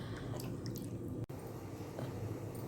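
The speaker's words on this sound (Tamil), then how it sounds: "கொதிச்சிட்ருக்கு" Broccoli rasam soup bubbles in a pot with a soft, continuous simmering hiss and faint popping, quiet and close, with a single sharp click midway.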